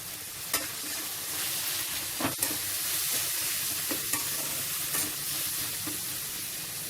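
Tomatoes sizzle steadily in a pan while cooking down for tomato rice, a continuous frying hiss with a few soft stirring knocks.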